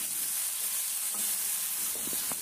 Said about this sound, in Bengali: চিকেনের সাথে মশলাগুলো ভালো করে মাখিয়ে নিচ্ছি